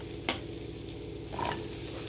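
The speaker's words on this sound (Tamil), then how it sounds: "இப்போ நம்ம இந்த நறுக்கி வச்ச மஷ்ரூம் போட்டுக்கலாம்." Steady sizzling of chopped mushrooms frying in butter in a hot pan, with a brief scrape near the start and a stir partway through; no voices.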